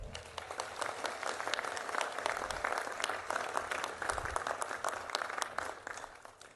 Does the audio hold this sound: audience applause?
yes